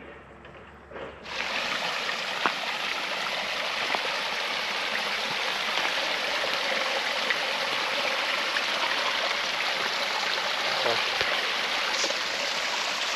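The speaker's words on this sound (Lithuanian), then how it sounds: "Radom vandens šaltinėlį iš karto." A small mountain spring in Italy trickles steadily nearby, a continuous close splashing wash of water that holds evenly for over ten seconds.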